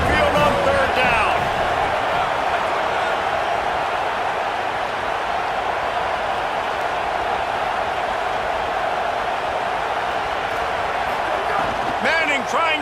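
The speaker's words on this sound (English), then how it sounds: "Crowd rolling noise down onto Saban Field on third down." A video game college football crowd roaring at Saban Field on third down, a dense, steady wall of stadium noise sustained throughout, with commentary voices over it at the start and end.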